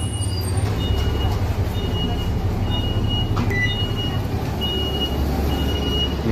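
A city bus at Jinshan Market in New Taipei, Taiwan, idling with a low engine rumble while a reversing beeper repeats at steady intervals above the traffic noise.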